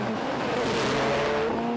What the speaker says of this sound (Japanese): GT500 クラス対決はクラッチをいたわってローリングスタート。